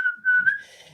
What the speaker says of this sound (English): go in, you can do a whistle inward.